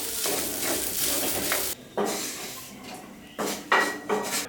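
Grated coconut sautéed in a pan on a low flame, giving a sizzle with scraping stirs of a spatula against the metal, broken by brief pauses and renewed bursts.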